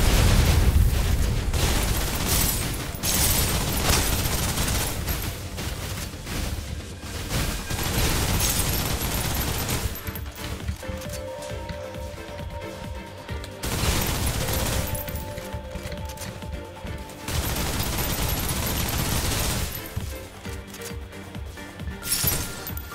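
Sustained suppressive gunfire from a special attack in the shooter game Snowbreak, a dense, loud fusillade of rapid shots in several long bursts separated by brief lulls filled with ringing, tonal effects.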